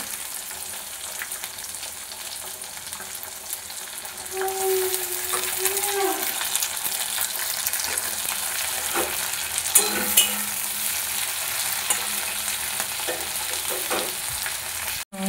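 Capsicum and tomato stirred and fried in a pan for an egg dish with cauliflower and potato: a steady close sizzle with spatula scraping and a couple of sharper clinks midway, no voices.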